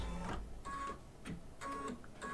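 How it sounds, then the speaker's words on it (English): A home embroidery machine stitching on a patchwork pet quilt block hums and whirs quietly in short bursts, with a soft mechanical clicking between runs as it stops and trims the thread. "I don't know what it stitched at the end. It stopped and trimmed."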